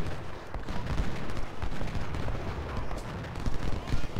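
Civil War cannon and rifle fire in the battle game Ultimate General, Antietam: dense overlapping gunshots and booming artillery crackling continuously, loud and close, with no talking.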